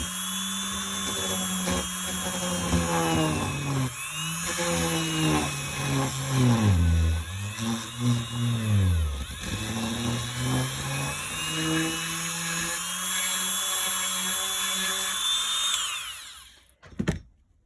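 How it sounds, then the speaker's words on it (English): A power drill bores out melted plastic bits from a puppet head, its whine rising and falling in pitch with load for about sixteen seconds, loud and close, before cutting off. "you kind of get these melty bits of plastic here that you have to kind of drill out carefully"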